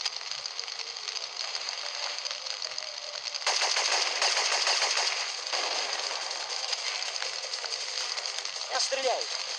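Rapid automatic gunfire in the PlayStation game Syphon Filter, dense rattling bursts that grow louder midway and continue in stretches, with game sound effects and no clear talk.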